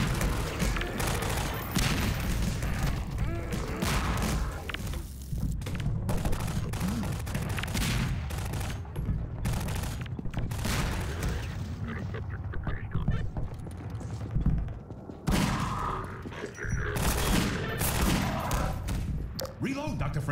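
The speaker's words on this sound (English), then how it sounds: "firing, shooting at zombies while they're on fire in all these concrete boxes" Rapid gunfire and grenade blasts against zombies in concrete boxes in the Half-Life 2 video game, dense bursts of shots and booms, with short lulls and someone talking over much of it.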